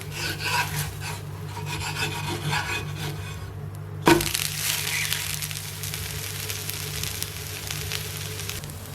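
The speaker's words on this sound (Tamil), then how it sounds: "இது திருப்பி போட்டு இன்னொரு சைடு வேக வச்சிடலாம்." A vallarai keerai dosa is flipped on a hot pan, with a sharp scrape and slap midway through, set against a steady sizzle and rasping of the spatula on the pan surface; no talking.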